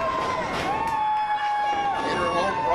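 A wrestling crowd cheers loudly and steadily for LuFisto in her home province during an inter-gender match. The sound is a dense, continuous roar, and a commentator talks over it.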